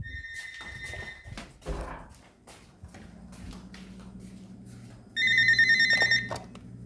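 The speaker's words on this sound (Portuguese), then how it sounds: "Eu vou ter que atender o telefone." A telephone rings in two bursts, a bright electronic ring near the start and a louder one near the end, with low rumbling room noise and scattered thumps in between.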